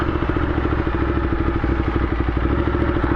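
A Ducati Diavel fitted with a 14-tooth sprocket putters around a parking lot, its steady, close mid-pitched engine rumble pulsing evenly throughout without talk.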